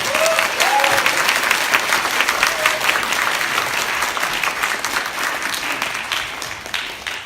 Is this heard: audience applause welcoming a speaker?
yes